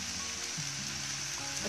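Tomato puree sizzles in a hot pan while cooking a vegetable keema, a steady, close, even hiss with a faint low hum underneath and no talk.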